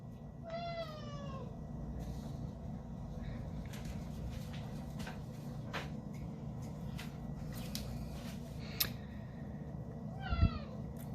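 A domestic cat meows twice, near and distinct, once at the start and again near the end, over a quiet room hum with a few soft knocks and clicks between.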